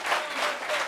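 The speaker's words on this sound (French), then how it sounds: "Applaudissements pour ça, les gars" Studio audience clapping on a talk show, a brief, soft wash of many hands heard at a distance, steady throughout.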